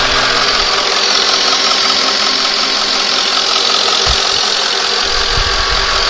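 A 2001 Mercedes ML55 AMG engine idles steadily and evenly at close range, a loud continuous hum with a smooth, unbroken mechanical whir.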